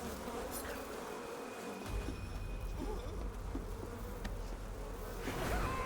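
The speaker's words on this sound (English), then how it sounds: "I don't know what's the difference between hornets and wasps." Hornets buzz steadily in the game Metal Gear Solid Delta, a dense insect drone running the whole stretch under game ambience, rising slightly louder near the end with no talk.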